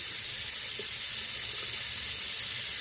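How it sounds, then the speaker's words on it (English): Cold tap water runs steadily over raw pork ribs in a kitchen sink, a continuous hissing splash at moderate level with no talking. "Now we're washing the ribs with cold water."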